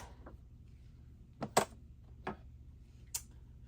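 Large scissors snip through fabric stabilizer in a few sharp, separate cuts, close and fairly quiet against a faint steady background hum.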